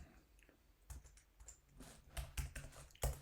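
Quiet typing on a computer keyboard while coding, an irregular run of soft clicks and key taps, close and fairly faint, with no voices.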